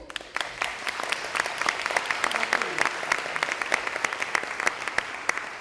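Applause for a judge at a swearing-in ceremony, a steady wash of many hands clapping at moderate loudness with sharper individual claps poking through, continuing evenly throughout.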